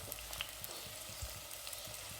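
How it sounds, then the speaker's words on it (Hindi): Chopped onions sizzle and fry in hot oil in a pan for smoky spiced mutton liver, a steady close crackle with small pops throughout and no talking. "इसके लिए हमने ऑयल में प्याज डाल के इसको फ्राई कर रहे हैं।"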